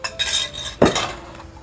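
A spoon mixes dry shrimp powder with ghee in a dish, making two short bursts of metallic clinks and scrapes, close and alone.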